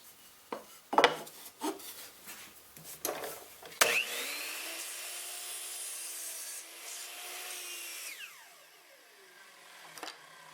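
A saw cuts through a thick plywood triangle held against a fence, a steady loud whirring grind lasting several seconds, then winding down, preceded by scattered knocks and handling clatter.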